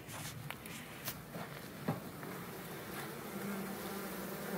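Angry honeybees drone and buzz steadily around an open hive in the evening, a dense, close swarm sound with a few sharper individual bees passing near.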